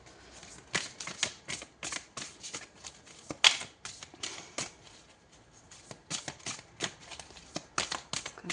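Tarot cards are shuffled by hand in a quiet room, producing repeated soft riffling bursts in an irregular rhythm, close and faint, with no voice over them.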